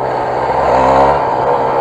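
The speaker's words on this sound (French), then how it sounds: "Le 2 temps, c'est très bien, ça va vite, ça fait un bon bruit" A Honda NSR-R 125 two-stroke motorcycle engine revs loud and close for a couple of seconds, a steady buzzing drone that rises slightly, then eases.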